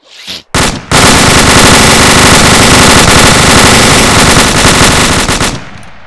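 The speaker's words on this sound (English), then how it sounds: "So now that you've deployed your weapons, fire a few times at the targets" Assault rifle firing at targets in ArmA 2, a couple of short bursts then a long, loud, unbroken stream of rapid automatic shots ringing close and hard for several seconds before stopping abruptly.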